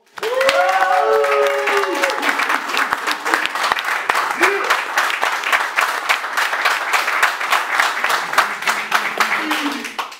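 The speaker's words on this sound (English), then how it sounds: "Give it up for them." At a Head2Head beat-making competition, a crowd claps and cheers for a music producer. Dense, loud applause runs throughout, with a voice shouting over the start and more voices in the crowd.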